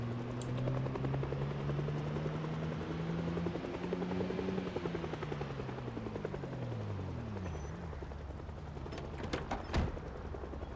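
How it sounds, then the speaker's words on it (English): A helicopter in a zombie video game sweeps overhead, its steady rotor and engine drone rising and falling in pitch as it passes, with a few sharp thuds near the end. "we should have known when the helicopter was coming"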